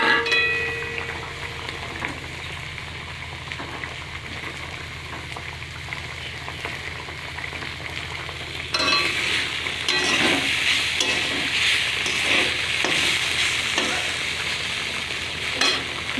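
Silver carp pieces dropped into a bubbling curry with boiled potatoes, a soft simmering hiss that grows into a louder, busier sizzle and stirring partway through, close by.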